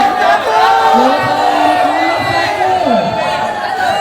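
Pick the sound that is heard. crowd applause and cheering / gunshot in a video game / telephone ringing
crowd applause and cheering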